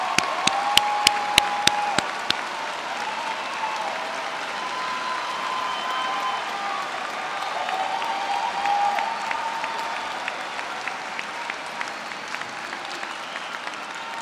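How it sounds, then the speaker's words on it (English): Audience at a college commencement ceremony breaks into sustained applause, a dense steady wash of many hands clapping in a large hall, opening with a few sharp louder claps and continuing evenly throughout. "Let's give them a big round of applause."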